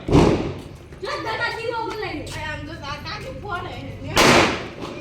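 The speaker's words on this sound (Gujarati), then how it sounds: "કેવો ફટાકડો ફોડે" People talk excitedly over background noise, then a sharp Diwali firecracker bang bursts out loudly near the end.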